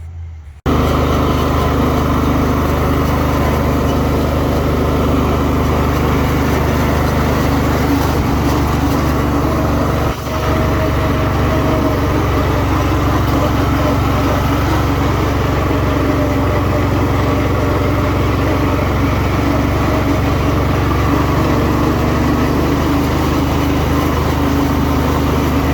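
Garden tractors from an estate sale running as they are driven, a loud, steady engine drone with a continuous low rumble that barely changes over the whole stretch, with no talking.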